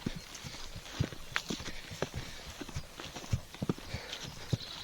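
A horse, a mare out on a ride, walks with hooves clip-clopping in a steady, uneven rhythm of close, distinct hoof strikes over faint background noise.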